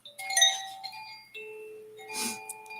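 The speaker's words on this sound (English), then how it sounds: "I want to get my chimes out" Chimes ring out gently with a shimmering, sustained tone, followed by a second softer strike that lingers and fades in a quiet room.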